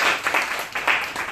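Brief burst of audience applause in a business-sales management class, dense clapping from a small group that swells, dips and swells again across a second and a half.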